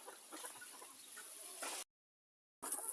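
Bielefelder hen and Livensky rooster, about four months old, clucking softly at close range with steady background hiss, then a short dead silence before the sound resumes.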